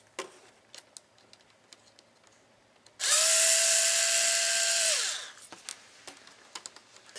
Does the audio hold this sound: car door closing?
no